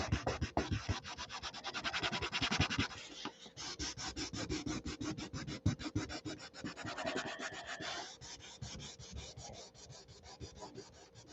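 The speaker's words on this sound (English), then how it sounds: "Let me sand from the other side, maybe." Hand sanding produces a long run of quick, rhythmic rubbing strokes. The scraping is close and steady, stays fairly quiet, and carries on without any talk.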